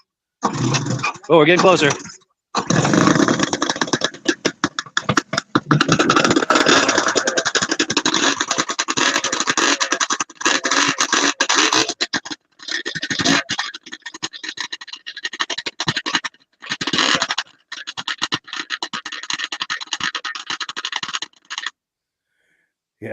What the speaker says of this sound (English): I like how those stinger pipes make that crackling sound